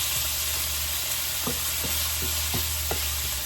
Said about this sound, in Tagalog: Ayan, gisa lang natin itong pork.